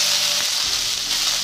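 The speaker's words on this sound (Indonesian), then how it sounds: "minyak panas, tumis daun kucai" Garlic chives sizzle steadily in hot oil during a noodle stir-fry, a dense, constant frying hiss with a faint stir partway through, close and fairly loud, no talking.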